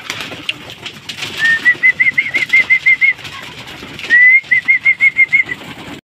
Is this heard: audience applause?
no